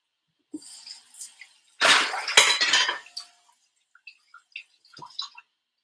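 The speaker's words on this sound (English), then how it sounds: "I'm gonna wash this off" Something is rinsed under running water in a kitchen sink, with a short gush from the tap, clinks of dishes and scattered drips afterward, close and fairly loud.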